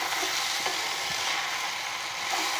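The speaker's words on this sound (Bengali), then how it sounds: "মিক্স না হওয়া পর্যন্ত ভালো করে নেড়ে নেব।" Vegetables are stirred and fried in a pan for a hotel-style dish, with a continuous close sizzle and soft scraping that hold steady throughout, with no voices.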